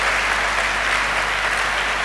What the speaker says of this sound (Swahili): Tumpikie Bwana makofi.